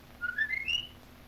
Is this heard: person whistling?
yes